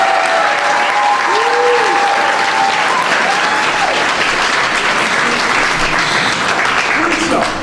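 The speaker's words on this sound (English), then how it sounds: "I want y'all to clap your hands" Loud, continuous applause comes from a crowd at a press conference on a curfew veto, dense clapping that stays even throughout with a few voices and whoops mixed in.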